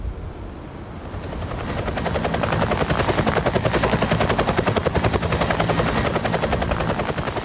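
A police helicopter flies over Saddleworth Moor, its rotor chop loud and steady, swelling after the first second into a rapid, pulsing thud with a high whine layered above.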